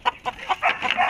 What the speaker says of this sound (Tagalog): pwede kayo mag-alaga ng mga manok